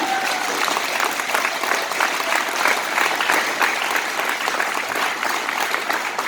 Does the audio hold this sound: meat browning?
no